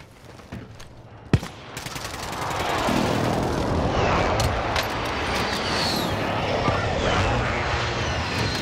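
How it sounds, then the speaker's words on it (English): Explosions and a sharp bang followed by a sustained roaring wash of blasts from a friendly precision airstrike in Call of Duty: Modern Warfare, loud and continuous, with game voices mixed in. "Be advised, friendly precision airstrike inbound."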